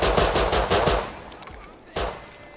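Gunfire in the video game Rust: a rapid burst of automatic shots, then a few scattered cracks and one more close shot, loud and sharp.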